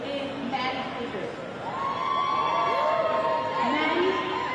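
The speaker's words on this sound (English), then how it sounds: "Can we get a round of applause for Cedric?" Round of applause and cheering for Cedric at an outdoor rally, a sustained crowd roar with whoops and shouts rising toward the end, moderately loud and spread out, with voices mixed in.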